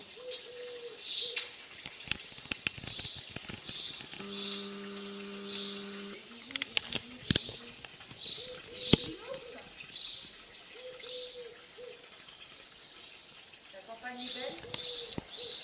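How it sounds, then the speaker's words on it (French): Pigeon cooing in repeated soft phrases, moderately near, on an outing, with chirps from other birds and bursts of nearby talk. "vous l'entendez le pigeon?"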